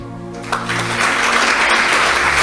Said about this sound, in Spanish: Yo le daría otro aplauso a mi Rey